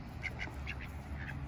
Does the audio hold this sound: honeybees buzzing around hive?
no